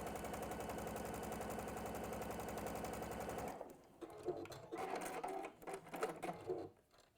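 A sewing machine runs a quarter-inch seam down the long side of a Tilda bird cushion, a steady close mechanical drone for several seconds before it stops, followed by light handling clatter of fabric and machine.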